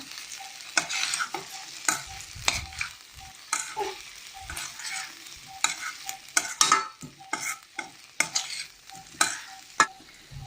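Brinjal and potato poriyal being stirred with freshly ground coconut in a pan, a long run of irregular spatula scrapes and knocks over a faint sizzle, close and unaccompanied by speech.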